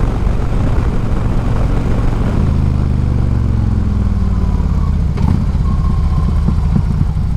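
Harley-Davidson Street Glide bagger with an upgraded windscreen riding at about 60 mph on the highway: a loud, constant roar of engine rumble and wind rush with a deep droning tone shifting midway.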